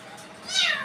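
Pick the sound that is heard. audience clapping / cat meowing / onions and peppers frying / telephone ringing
cat meowing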